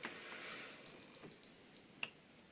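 A hair straightener signals it has heated up with three short electronic beeps in quick succession, the last slightly longer, over quiet room noise followed by a small click.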